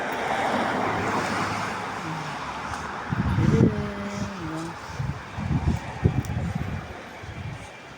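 Steady wash of surf and wind roars across the scene, with muffled voices and low rumbling bursts rising partway through.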